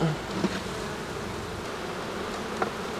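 Bees in an open hive during an inspection in Quebec hum in a dense, continuous buzz, close and steady, with a couple of brief louder passes near the ear.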